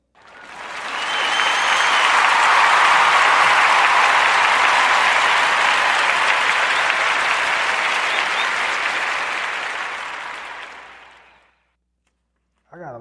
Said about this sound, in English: a warm narrative podcast round of applause